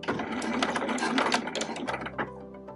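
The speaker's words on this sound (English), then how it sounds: "And then just stitch straight down." A sewing machine runs a straight stitch on scrunchie fabric, a fast close rattling whir for most of the stretch before slowing and stopping near the end.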